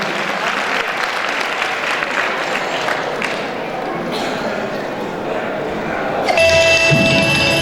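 An audience applauding at a devotional Mogal Ma aarti performance, with dense, steady clapping throughout and a bright tonal sound joining near the end.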